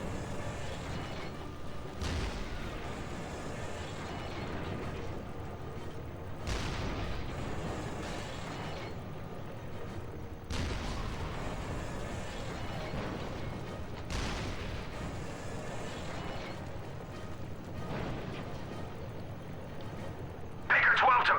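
Tank combat in the shooter Resistance: Fall of Man, with repeated heavy cannon blasts and explosions booming every few seconds over a constant rumbling mechanical drone, loud and close.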